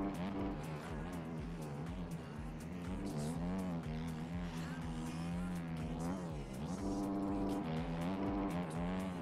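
Motocross bike engine in the MXGP racing video game, a continuous buzzing engine whose pitch rises and falls with throttle changes, dropping and recovering as the rider brakes, loud and steady throughout.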